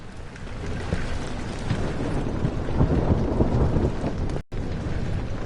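Steady heavy rain with a low rolling thunder rumble in Amnesia: The Dark Descent, a continuous dense wash that cuts out abruptly for a split second near the end before resuming.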